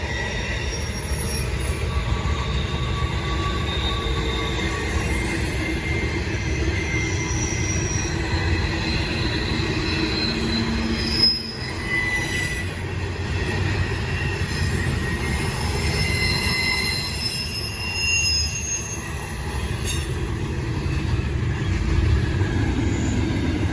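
A long Norfolk Southern freight train rolls past steadily at night, with a constant rumble, clattering wheels and high metallic squeals throughout, loud and close.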